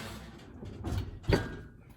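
A single muffled thud of an oven door shutting, close by, with a brief softer knock just before it in a quiet room.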